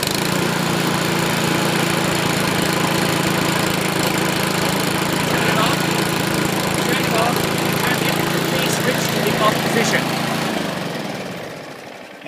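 A small gasoline engine on an ES99 unit started by manual recoil pull cord, running at a loud, steady drone for about ten seconds before winding down and fading near the end.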